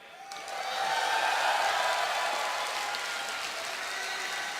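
Fans cheer and applaud in a large arena crowd at the BlizzCon 2011 StarCraft II grand finals, swelling quickly into a sustained roar with scattered whoops that stays loud to the end.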